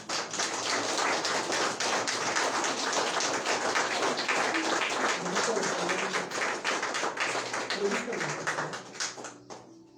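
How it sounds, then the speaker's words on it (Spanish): A church congregation applauding, a dense, steady patter of many hands clapping loudly that fades out near the end. "¿Cuántos le dan un aplauso al Señor?"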